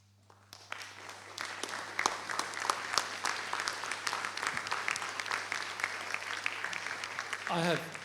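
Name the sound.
audience applause after a presentation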